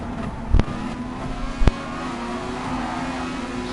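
A race car in the Gran Turismo racing game holds a steady, droning engine note as it closes on three cars ahead, with two brief sharp clicks or thumps cutting through and no talk.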